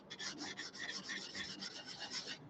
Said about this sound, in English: Maybe come in with a bit more of a coarser sanding stick.